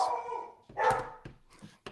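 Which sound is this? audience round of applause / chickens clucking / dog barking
dog barking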